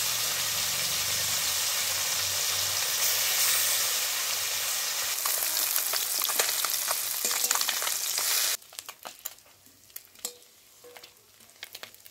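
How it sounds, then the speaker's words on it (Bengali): Puti fish fry in oil in a village kitchen, giving a steady, loud, dense sizzle that drops sharply toward the end, leaving quieter, scattered crackles. "আমার মাছটা ভাজা হয়ে গেছে, আমি বেগুনের সাইডে তুলে নিচ্ছি মাছগুলো।"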